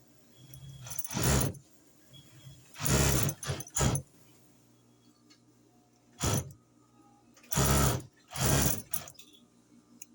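Sewing machine stitching the back seam of a pair of shorts, running in about six short bursts of rapid mechanical whirring separated by quiet pauses, close and clear with no talking.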